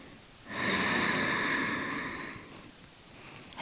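A single slow, audible breath drawn and released through the nose during a yoga stretch, close and fairly soft, swelling for about two seconds and then fading into quiet.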